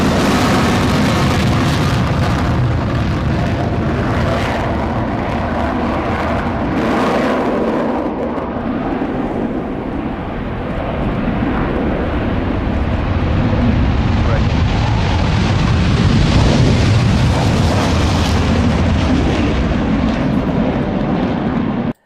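A V-22 Osprey at a night display at the Royal International Air Tattoo, heard as a broad, far-off roaring rumble that swells and fades over the span, with a voice talking over it.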